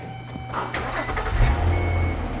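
A car engine cranks and catches with a low rumble that swells midway, close by in a repair shop, on a car with a purge valve problem being started by key fob.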